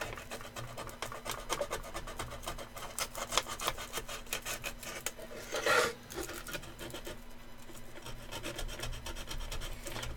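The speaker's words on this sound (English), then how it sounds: "We're just sanding away" Rapid, rhythmic scratchy strokes of sanding on wood continue steadily, with a steady low hum in the background and a brief louder swipe midway.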